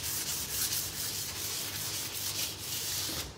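A cloth buffs excess hemp finishing oil off a timber surface in a steady, close rubbing swish that goes on continuously, with no voices.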